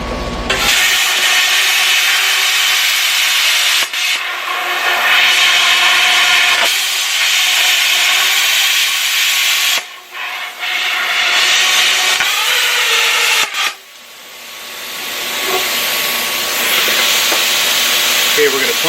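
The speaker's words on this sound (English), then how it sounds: "trace out some shapes to plasma cut around and see how that works out for us" Plasma cutter slicing freehand shapes into a Porsche 911 exhaust pipe, a loud broadband hiss and crackle that runs nearly continuously with a few brief breaks and fades near the end.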